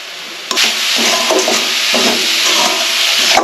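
Grated coconut with sugar and crushed cardamom heating in a pan over a gas flame gives a close, continuous sizzle and hiss, broken by scraping stirs and a few sharp knocks.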